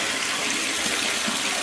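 Tap water gushes hard and steady from a faucet after a week without supply, a loud continuous rushing pour with no voices.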